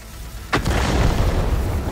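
A single sharp tank cannon blast in World of Tanks booms out, followed by a rumbling low tail over steady background noise.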